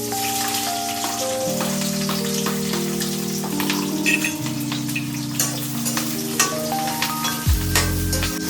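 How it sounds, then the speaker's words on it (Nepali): Onion, green chili and bay leaf frying in very hot oil for a chicken masala, a steady close crackling sizzle with popping spatters and occasional clinks from a spoon stirring the pan. "ऑयल मेरो एकदम गरम भइसक्यो। अब म राख्छु तेजपत्ता। ल हेर्नुहोस् कस्तो राम्रो छ तेजपत्ता। त्यसपछि राख्छु प्याज र मिर्ची।"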